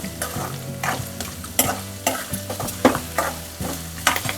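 Poha chivda roasting in a pan with curry leaves, stirred with a spoon that scrapes and knocks in a steady rhythm over a soft sizzle, close and fairly loud, with no voices.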